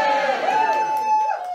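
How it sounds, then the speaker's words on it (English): A comedy club audience cheers and whoops in a short burst, loud and near, with voices mixed into the crowd noise. "can you cheer if you're not related to me?"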